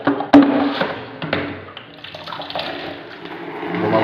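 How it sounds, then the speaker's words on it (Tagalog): Water runs through a newly replaced PVC pipe in a ceiling above a toilet room, a close, continuous gurgling rush with a sharp knock near the start. "Matakbo na yung tubig mga kabakal sa baba."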